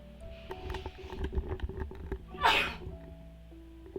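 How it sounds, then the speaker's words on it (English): A single sharp, wet sneeze bursts out mid-clip among people talking at a gaming table, loud and close. "Underwater sneezes, the worst."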